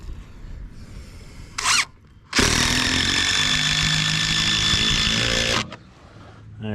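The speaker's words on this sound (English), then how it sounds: "we're gonna go ahead and drive a couple of screws right in this little cavity right here" A power drill whines steadily for a few seconds as it drives screws into a 6x6 post while building a run-in shelter, after a brief short burst of the motor earlier.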